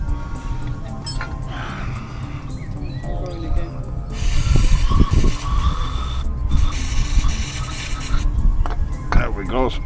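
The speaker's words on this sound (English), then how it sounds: "that all that noise is down to brakes" A Ford Mondeo's brakes make rough, grinding scraping noise in sustained loud bursts over a steady mechanical drone, with a brief pause between bursts and faint talk in the background.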